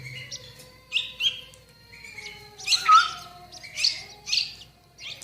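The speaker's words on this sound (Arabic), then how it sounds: "هذا بلبل الهزر، هذا اول مرة اجيبه انا" Young bulbul chick being hand-fed calls in a series of bright, high chirps and squeaky tweets, with a busy cluster of overlapping calls in the middle, close and fairly loud over a faint low hum.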